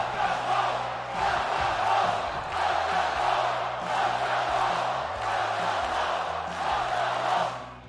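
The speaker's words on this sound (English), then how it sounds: "the crowd can be heard chanting "Welcome home."" A large arena crowd in WWE 2K22 chants "Welcome home" loudly in a steady rhythmic cadence, voices swelling and repeating over a constant background roar.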